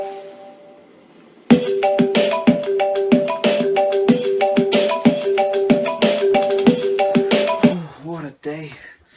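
A phone ringtone plays loud and close, a bright repeating melodic pattern of plucked-sounding tones in steady rhythm that runs for several seconds after a quiet start, then cuts out into brief trailing sounds.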